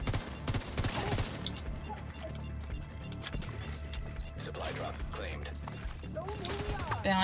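Rapid bursts of video game gunfire crackle through a busy firefight, mixed with clanking mechanical sounds and steady background noise while players talk over it.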